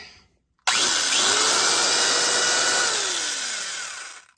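An old electric drill, bought cheap at a tool meet, switches on abruptly after a brief silence, runs with a loud steady whine, then begins to wind down near the end.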